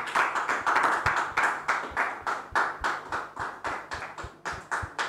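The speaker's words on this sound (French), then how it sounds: "On les reçoit sous vos applaudissements, s'il vous plaît." A small group claps steadily, a run of sharp, fairly regular hand claps that continues from start to finish without talk.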